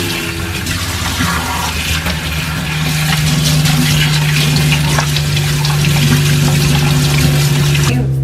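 Parts of a Bissell CrossWave wet-dry floor and carpet cleaner being rinsed under a running tap, a continuous loud rush of splashing water with a steady hum beneath it.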